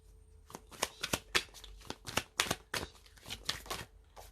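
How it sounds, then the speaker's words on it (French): Oracle cards being drawn and shuffled from a deck, with a quick series of crisp papery slaps and riffles at an irregular rhythm, close and clear, with no voices. "On continue avec l'oracle coup de cœur et on va prendre 4 cartes."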